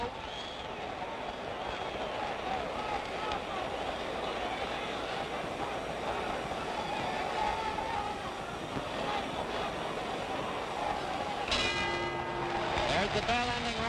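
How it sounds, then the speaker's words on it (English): A boxing ring bell ends round 11 of the 1965 Floyd Patterson vs George Chuvalo fight. It rings near the end, after a long stretch of steady crowd roar with commentary underneath. "The bell ending round 11."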